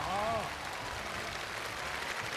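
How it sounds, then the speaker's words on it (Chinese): Studio audience on a televised challenge show applauds after a contestant sets a new world record: dense, steady clapping that fills the whole stretch, with a voice briefly audible at the start. "掌声祝贺毛红利！"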